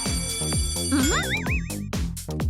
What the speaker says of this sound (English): Outside, Daddy Pig presses the doorbell again and again